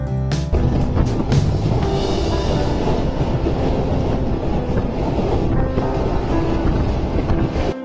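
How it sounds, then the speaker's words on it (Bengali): Strong wind buffets the camera microphone during a train journey from Phultala toward Mongla, a loud, continuous low roar and rumble that starts abruptly and persists throughout with no speech. "বাতাসে আমি ক্যামেরাটাই ঠিক করে ধরে রাখতে পারতেছি না"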